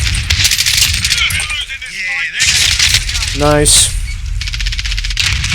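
Call of Duty gameplay gunfire, rapid bursts of shots and rattling effects mixed with game sounds, loud and close, with a player talking over the action.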